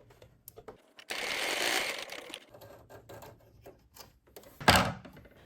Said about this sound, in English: I'm going to go ahead and sew these like so right across there.